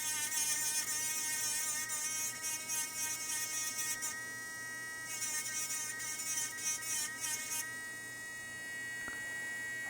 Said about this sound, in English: Grind away a little more over here.